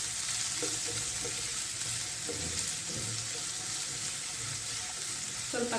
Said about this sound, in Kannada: 4 ರಿಂದ 5 ಬೆಳ್ಳುಳ್ಳಿ ಎಲ್ಲ ಸಣ್ಣದಾಗಿ ಕಟ್ ಮಾಡ್ಕೊಂಡಿರೋದು ಫ್ರೈ ಮಾಡ್ಕೊಬೇಕು